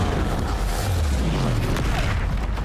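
Spell blasts from Hogwarts Legacy hitting a troll in combat: dense, loud booming bursts and whooshing impacts layered over a constant rumble, with low swooping tones sliding underneath.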